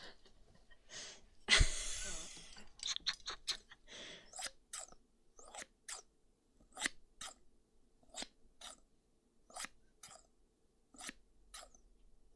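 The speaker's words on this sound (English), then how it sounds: "They are sewing scissors." Sewing scissors handled and snipped up close, giving a series of short, crisp metallic clicks and snips spaced out at an irregular pace, with a louder rustling scrape near the start.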